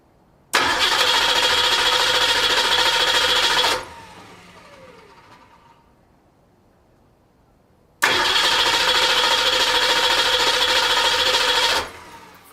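An engine fitted with a Holley Sniper EFI system cranks and fires into a loud, steady idle for about three seconds, cuts off and falls quiet, then starts again and runs for several more seconds.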